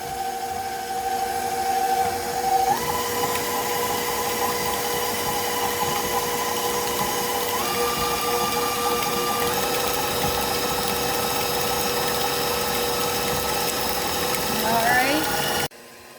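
An electric mixer beats hot sweet potatoes with melting butter, giving a continuous motor whine that shifts pitch in a few steps as the speed changes, then stops abruptly near the end.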